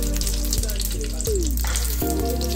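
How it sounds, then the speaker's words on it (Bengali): Mustard seeds, curry leaves and Kashmiri dried chili sizzle in hot oil for a South Indian semolina upma, a close steady crackle with a few sharp pops and stirring clicks. "দেবো কারি পাতা ফোড়ন আর দেবো কাশ্মীরি শুকনো লঙ্কা।"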